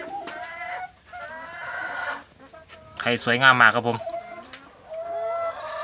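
Laying hens cluck at a farm in a steady, close chorus, with one louder rising call standing out near the middle. Someone speaks over the birds on and off.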